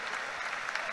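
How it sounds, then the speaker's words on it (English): Home football fans applauding at a Scottish match, Falkirk against Queen of the South, a brief burst of dense crowd clapping heard from a distance. "raucous applause from the home fans"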